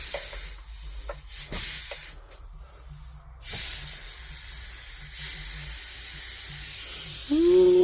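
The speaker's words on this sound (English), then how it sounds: "A sizzling and a crackling." Brazing on copper plumbing produces sharp hissing spray bursts and a faint crackle, several short blasts separated by quieter pauses, close to the listener.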